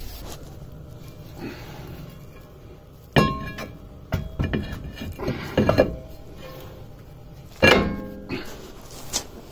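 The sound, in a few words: putting brake rotor onto 2008 Saturn Vue wheel hub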